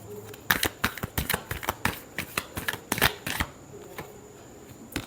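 Tarot cards are shuffled by hand up close in a quick series of sharp riffling snaps and flutters over several seconds, then trail off into near quiet.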